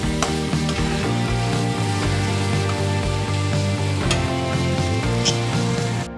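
Tilapia and taro curry being stirred in a pan, sizzling loudly and steadily throughout, with irregular clanks of the spoon against the pan, close up and without voices.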